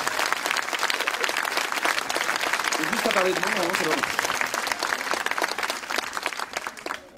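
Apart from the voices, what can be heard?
audience applauding an entrance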